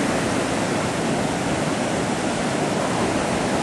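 Ocean surf rolls in steadily with wind blowing on a beach on the morning before the Los Angeles Triathlon, a continuous, loud broadband wash with no talk.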